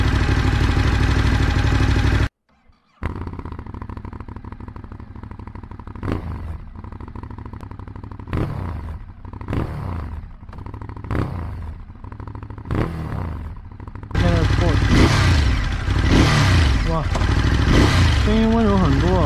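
Close, steady idle from a Ducati Scrambler 821 running its stock exhaust, a lumpy twin-cylinder thrum. It cuts out briefly near the start, and people talk over the later part.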